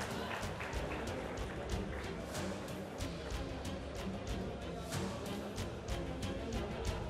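Sustained audience applause at a Turkish Exporters Assembly (TİM) general assembly awards ceremony, dense steady clapping from a large crowd with a faint voice mixed in.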